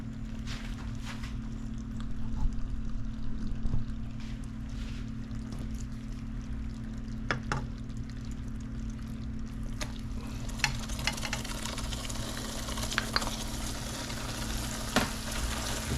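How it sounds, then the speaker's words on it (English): Butter added to hot sugar syrup at 250 degrees while making peanut brittle, a quiet frothing sizzle over a low steady hum, with scattered small clicks and stirring taps, no talk. "It's 250, and now we'll carefully add the butter."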